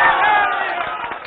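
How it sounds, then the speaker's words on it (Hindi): A crowd in a hall in Nalanda applauds and cheers loudly for itself, a bright wash of clapping and shouting voices that begins strong and tapers slightly toward the end. "नालंदा के लोग एक बार जोरदार तालियां बजा लें खुद के"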